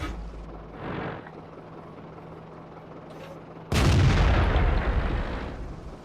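A tank cannon shot booms in the World of Tanks video game, one loud sudden blast with a long rumbling decay, after a quieter stretch of low engine hum.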